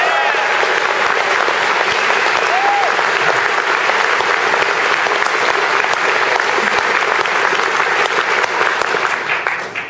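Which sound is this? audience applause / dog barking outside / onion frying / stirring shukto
audience applause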